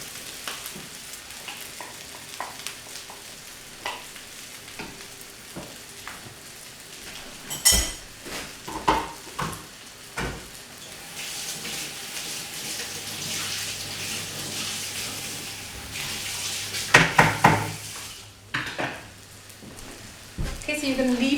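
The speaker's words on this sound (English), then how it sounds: "And then you're going to add your eggs to that part of the pan." Eggs for egg fried rice hit a hot frying pan, giving a steady sizzle and crackle with scattered clinks and stirring knocks, close up, punctuated by a few louder clatters near the end.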